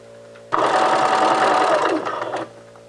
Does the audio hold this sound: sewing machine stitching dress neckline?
yes